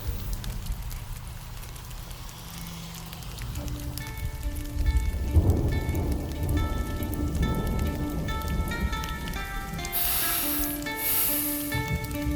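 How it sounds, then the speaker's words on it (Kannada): Steady rain patters down without pause, a dense wash of drops that grows fuller midway as soft sustained tones sound faintly alongside it. "ನೆಲಜಿ ಹೆಸರೇಳಿದ ಕೂಡಲೇ ಮಳೆ ಬರ್ತಾ ಉಂಟು"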